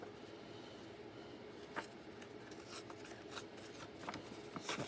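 Paper is torn by hand for a collage journal page, with scattered short ripping and rustling bursts over a faint steady background, close but quiet.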